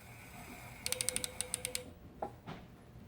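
A Juki MF-7523 coverstitch machine runs a short burst of rapid, evenly spaced mechanical ticks, close and fairly quiet, then stops, leaving a couple of faint knocks.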